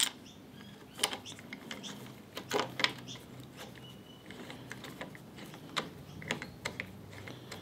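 A hand ratchet tightens a TEC bar end mirror onto the handlebar of a Royal Enfield Meteor 350, giving short scattered clicking bursts at close range amid quiet workshop handling noise.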